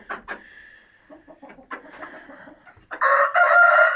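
A rooster crows loudly near the end, preceded by scattered clucks and quieter hen noises; no one speaks.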